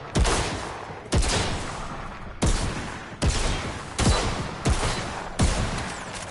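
Single heavy shots from a gun in the shooter Outriders ring out about eight times at a steady, spaced rhythm, each loud, sharp crack followed by a short, noisy decay.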